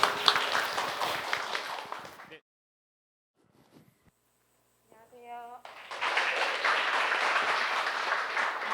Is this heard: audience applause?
yes